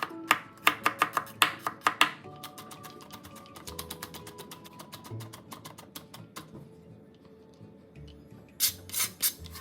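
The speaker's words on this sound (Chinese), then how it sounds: "将剩余3个蒜瓣剁碎" Garlic cloves minced with a kitchen knife on a chopping board while making Malaysian Pattaya fried noodles, rapid sharp chopping taps in fast bursts, close and clear, easing into quieter lighter strokes before a final loud flurry.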